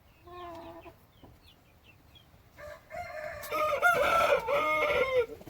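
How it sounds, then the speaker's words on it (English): Thai chickens cluck softly at first, then a rooster crows loudly nearby over a busy chorus of hens clucking and squawking. "This is the hen with the 13 chicks I had."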